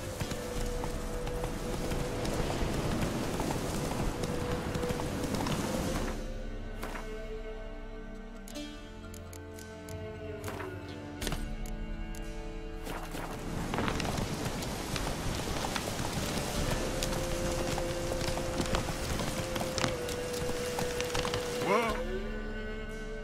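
Horse hooves clip-clop in a steady riding rhythm in a video game, close and clear, with a voice speaking at times and other game sounds mixed underneath.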